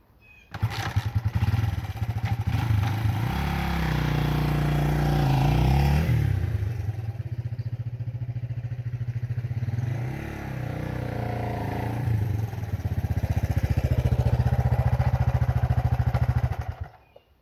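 A small old Honda engine mounted on a motorized bicycle runs loud and steady with a rough, buzzing idle and rev swells, clattering mechanically up close with no talk over it.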